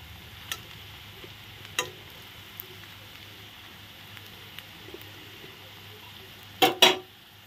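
Papaya kofta frying in oil makes a faint, steady sizzle, broken by sparse utensil taps and a louder double clatter near the end.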